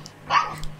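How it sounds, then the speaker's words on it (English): An angry dog lets out one sharp, loud bark at close range, followed by a softer huff, with faint background hum. "Angry dog."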